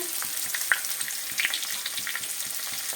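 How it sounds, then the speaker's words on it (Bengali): Cumin seeds, two chillies and two bay leaves spluttering in hot oil in a space cleared among potatoes: a bright sizzle with frequent small crackling pops, close and moderately loud, no voices. "জিরেগুলো ফুটে গেছে"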